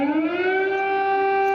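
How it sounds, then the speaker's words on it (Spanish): Air raid sirens wail over Kyiv early in the morning, a steady sustained tone with stacked harmonics holding loud and even throughout, no voices. "Las sirenas antiaéreas volvieron a sonar en Kiev a primera hora de la mañana de este jueves"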